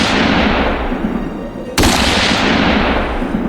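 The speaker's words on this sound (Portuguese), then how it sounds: "Mal o som do eco do disparo se dissipa-se pelo ar." A single loud gunshot in a western duel scene cracks sharply, then its echo rolls away in a long, noisy decay, preceded by a wash of wind-like noise.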